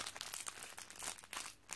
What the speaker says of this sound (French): s'il y a le bruit du papier qui dérange